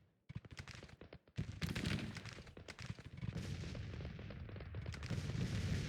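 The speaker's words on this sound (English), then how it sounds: "my cannons are slowly beginning to wear away the defences, which is good" Civil War cannon artillery in a strategy game, a rapid run of booming shots and crackling volleys that blend into a continuous roar of gunfire.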